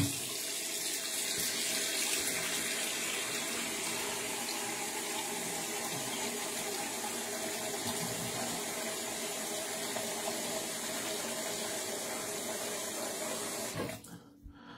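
Water pours from a bowl into a sink as steady running and splashing that stays loud and even for about fourteen seconds, then cuts off abruptly near the end.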